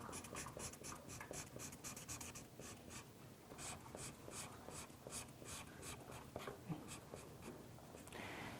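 Someone colours cells on a paper grid by hand with quick, repeated scratchy strokes, close and faint, in a steady back-and-forth rhythm with no talking.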